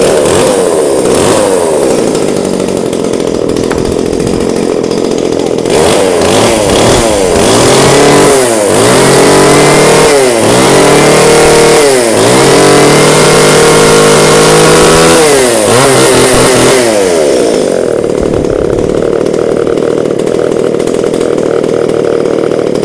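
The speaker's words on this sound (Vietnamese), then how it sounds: "em giật nổ để các bác nghe thử mã số con Q8 nhé, con cưa Talaka này." A Talaka Q8 chainsaw with a 38 mm cylinder runs loud and close after a pull start. Its two-stroke engine idles, then revs up and down repeatedly in sharp surges before dropping back to a steady idle.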